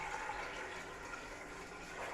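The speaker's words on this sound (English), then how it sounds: "I'm definitely running the tap" Water from a kitchen tap runs steadily into a pan, a continuous broadband rush heard alone without speech, fairly close.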